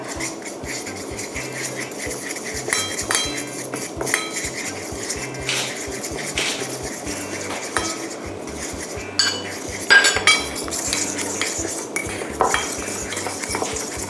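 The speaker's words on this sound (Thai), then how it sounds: "ระหว่างนี้เรามาผสม แป้งที่เราจะชุบทอดก่อนดีกว่านะคะ" Flour batter for fried tofu mixed in a bowl with a utensil, with repeated clinks and scrapes of metal against the bowl at an uneven pace, close by and no talk.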